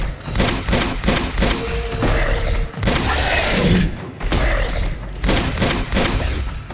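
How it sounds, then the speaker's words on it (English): Rapid gunfire crackles in Uncharted 2: Among Thieves, dense repeated shots and heavy thuds in quick bursts, loud and close, with occasional faint vocal sounds in the mix. "Do I just keep shooting it?"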